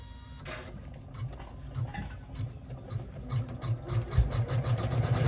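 An embroidery machine stitches the lining of a wavy appliqué flat-bottom crossbody bag held in the hoop, giving a steady, rhythmic mechanical whir and thump that grows slightly louder, close by with no talking.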